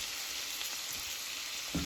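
Shrimp fry in butter in a pan with a steady, close hiss of sizzling, ending in a short clatter just before the sound cuts off.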